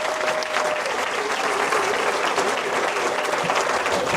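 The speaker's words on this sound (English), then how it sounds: "A big round of applause for them." A crowd claps steadily and loudly at the Mansfield Town Academy Awards evening, a dense, unbroken wash of hands that holds its level for the full few seconds.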